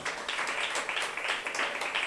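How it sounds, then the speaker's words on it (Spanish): A church congregation applauds during a sermon, steady dense clapping filling the hall at moderate level, with no voices standing out. "Dele un aplauso al Señor de alabanza."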